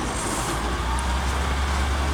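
Suzuki Samurai with a front locker driving back and forth in a yard, a steady low engine rumble with broadband road noise throughout, close and continuous with no talk.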